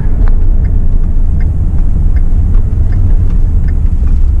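Ford F250 with a 6.7 Powerstroke diesel engine towing a heavy load up a steep hill, a loud constant low rumble of engine and road noise from inside the cab, with faint ticking over it.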